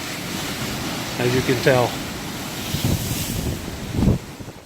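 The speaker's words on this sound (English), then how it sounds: "this again is Lake Michigan, and the water is extremely rough" Rough Lake Michigan surf churns beside a lighthouse under strong, cold wind that buffets the microphone, a constant roar with someone briefly talking over it.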